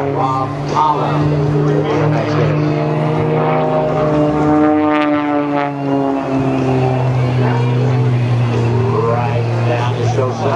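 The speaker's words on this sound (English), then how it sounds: "Causing that aircraft to slide sideways all the way to show left there for you." Rob Holland's aerobatic propeller plane drones loudly overhead at an Ocean City air show, its engine note rising and bending as it slides sideways, while an announcer talks over the public address.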